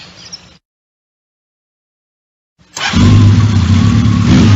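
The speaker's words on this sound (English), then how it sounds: "The motorcycle I'm sitting on is a very special one." A round-the-world touring motorcycle's engine starts up after a silent gap and runs loud and close, a steady rumbling drone.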